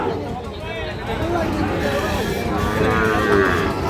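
Sahiwal-breed bull calves at a cattle market, with a cow's low moo rising out of a busy background of people talking and crowd murmur.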